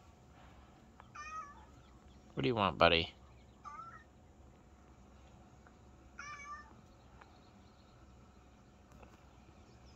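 A cat meows several times, a short call near the start, a louder drawn-out cry around the middle and another brief meow later, while someone talks to it in between.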